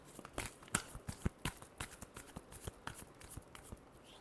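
Tarot cards being shuffled by hand in a quiet room, a run of crisp riffling snaps and soft flutters in uneven bursts, close and moderately loud, with no voices.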